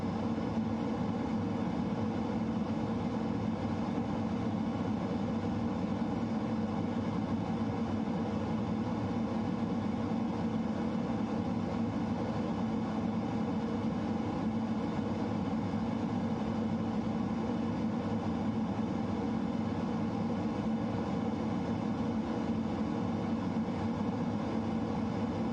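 F-15 jet at full afterburner in Microsoft Flight Simulator: a steady, loud, continuous roar holding level throughout with no talking.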